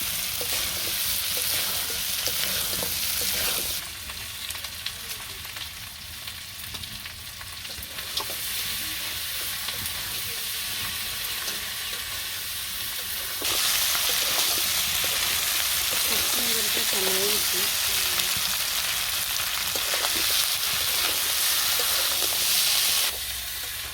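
Meat braising and frying in a pan gives a steady, loud sizzle across the whole stretch, with intermittent stirring scrapes and a brief quieter patch partway through.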